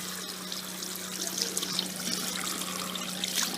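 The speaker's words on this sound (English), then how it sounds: "Running water." Water running from a tap in Marshall, Liberia, a fairly quiet, steady trickle and splash nearby with a faint constant hum underneath and no talking.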